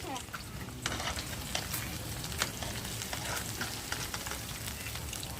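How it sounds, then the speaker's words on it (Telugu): Food frying steadily in a pan during festival cooking, a continuous dense sizzle with occasional crackles and stirring scrapes, close and fairly loud throughout. "ఇంకా మన ఫ్రై కూడా బాగా వేగేసినాయి అనమాట"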